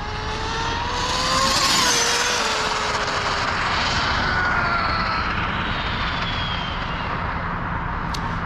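Brushless RC car motor under a Castle XLX2 speed controller run up toward full throttle during calibration, a loud rising whine with shifting pitch sweeps that swells then levels off, with a sharp click near the end.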